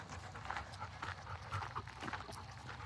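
Dogs pant quickly and rhythmically at the end of a forest walk, close by and fairly quiet, with faint rustling around them.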